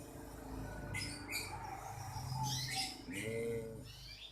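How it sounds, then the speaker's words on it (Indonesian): Caged birds at a busy bird market give repeated bright chirps and tweets over a steady low crowd murmur and hum, fairly close. "lagi mantau pasar burung"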